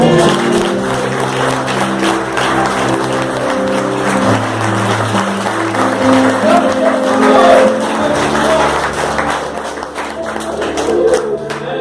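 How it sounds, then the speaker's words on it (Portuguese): An evangelical congregation at a prayer service claps hard for the Lord, a loud continuous wash of hands over ongoing music and sustained tones. "Então as palmas bem fortes é para o Senhor."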